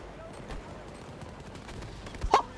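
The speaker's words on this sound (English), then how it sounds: "that was a hell of a grenade" A grenade blows up in the shooter game Battlefield 2042, a sharp, loud burst near the end that cuts through steady background gunfire and battle noise.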